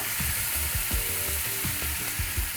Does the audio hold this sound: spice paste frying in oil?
yes